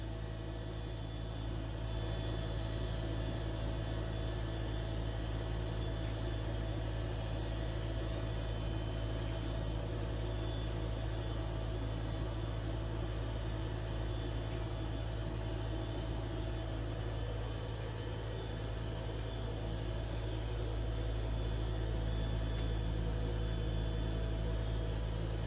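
The motors of a US Stove American Harvest 6039 pellet stove run with a steady, low electric hum and faint whirring. The sound is even and unbroken throughout, with no voices.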